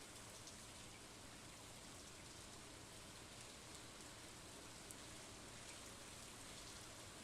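Green rain falls in the farming video game Stardew Valley, a soft, even hiss of steady rainfall on surfaces that runs unchanged throughout, faint and without any talk.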